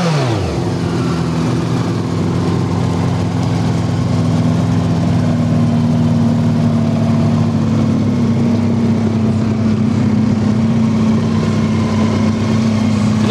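A BMW K1200LTD motorcycle fires up and settles into a steady, close idle, its smooth engine hum running alone throughout.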